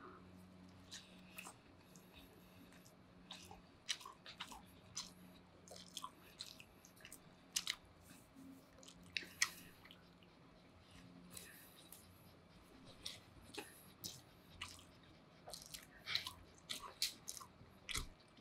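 Spam musubi wrapped in plenty of seaweed being eaten in Honolulu, heard as scattered soft bites and close, moist chewing with small crunchy clicks, spread unevenly across the stretch with quiet pauses between mouthfuls.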